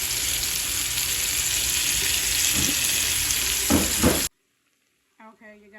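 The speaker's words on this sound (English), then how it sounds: "I'm just searing my meat." A large piece of beef sears in a hot pan, giving a loud, steady sizzle that fills the first four seconds before cutting off abruptly, followed by brief faint sounds.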